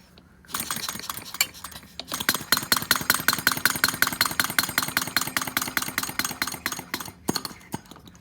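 A small flame-powered vacuum engine runs with a fast, even mechanical clatter of rapid rhythmic ticks, close and fairly loud, starting after a brief pause and stopping near the end.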